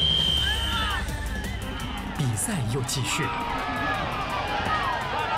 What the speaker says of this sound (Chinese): 观众们也在一旁欢呼鼓掌，跺脚助威，场面非常热闹。